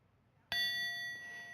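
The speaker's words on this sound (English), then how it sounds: "Every time the bell rings" One clear strike of a bell in a church service rings out suddenly, its bright sustained tone hanging and slowly decaying in a quiet room.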